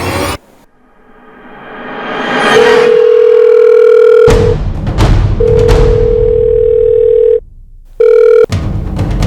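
A telephone dial tone sounds loudly and steadily while a call is placed, broken into several long stretches by clicks, with dramatic music and rumbling effects underneath and no talk.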